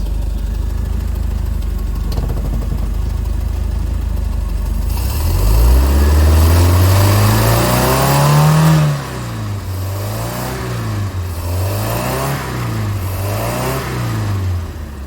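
A fuel-injected MerCruiser 3.0 boat engine fitted with a Holley Sniper EFI, in a 1987 Bayliner Capri, rumbles at idle, then revs up in one loud sweep and settles into a steady rhythmic surging idle, with no talking.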